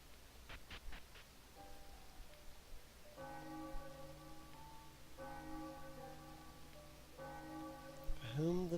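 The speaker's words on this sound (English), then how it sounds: "For whom the bell tolls." A deep bell in a video game tolls three slow, resonant strokes with long ringing decays, preceded by lighter chimes, over a soft rain-like hiss.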